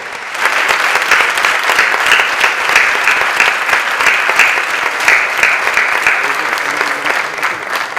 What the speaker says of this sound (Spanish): le enviemos un fuerte y caluroso aplauso de mejoría de la salud